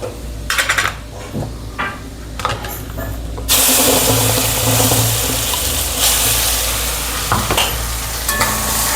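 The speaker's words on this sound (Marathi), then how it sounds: "तेल गरम झालेलं आहे, तर मी हळद टाकते, लाल तिखट, घरगुती मसाला," Turmeric, red chilli powder and homemade masala fry in hot oil for palak chicken. A few clinks and stirring scrapes come first, then a loud, steady sizzle holds to the end, with occasional spoon knocks against the pan.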